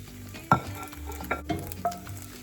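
Eggs frying in a hot pan for a tortilla breakfast, a soft steady sizzle broken by a few clinks and scrapes of a utensil stirring, close up with no talking.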